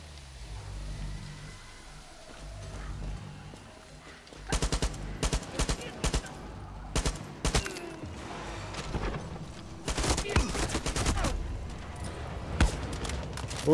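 Bursts of rapid gunfire in the video game Far Cry 6 crackle repeatedly in uneven volleys, loud and close, over a rumbling engine-like background.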